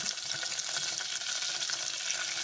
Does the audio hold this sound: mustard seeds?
yes